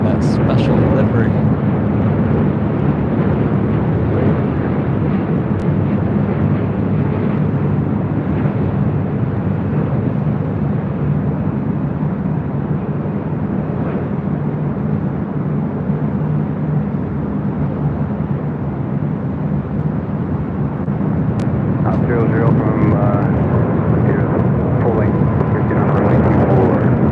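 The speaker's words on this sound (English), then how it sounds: "Departure on 24 left before Air Force One arrives." An airliner departing runway 24 left at LAX, a loud, steady jet roar holding for nearly half a minute with a low rumbling body, strongest toward the end.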